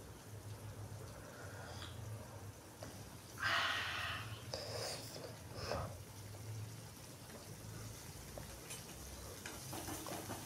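Finely chopped onion sautéing in a pan over popped mustard seeds gives a faint, steady sizzle, with a few louder bursts of scraping and stirring partway through.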